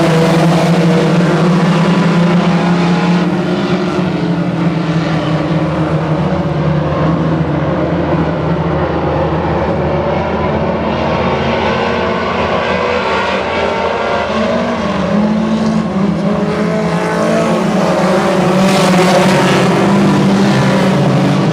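Bomber division race cars circling the oval at West Georgia Speedway, a loud continuous roar of several engines with shifting pitch as the pack passes, steady and close throughout.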